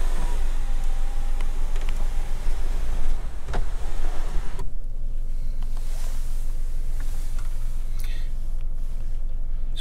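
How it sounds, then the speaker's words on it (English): Electric sunroof on a VW Up! sliding open, a steady motor whir running at close range for about four seconds before it stops and cabin noise takes over. "If you turn it round, it opens the sunroof."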